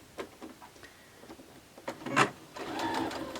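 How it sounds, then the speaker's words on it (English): A sewing machine runs a straight stitch through a drink cozy made of selvedge fabric and cozy batting, giving short bursts of close mechanical rattling with brief pauses between them. "So I'm going to stitch right here. I'm going to use a straight stitch"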